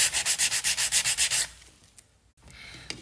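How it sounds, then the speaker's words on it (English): Sandpaper rubs briskly over a wooden treasure box in about ten quick, even strokes, close and raspy, then stops, leaving quiet with a few faint handling sounds. "it keeps it nice and steady while you are sanding."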